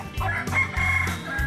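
A chicken clucks and crows up close at a rope-tied livestock event, a loud, continuous run of throaty calls.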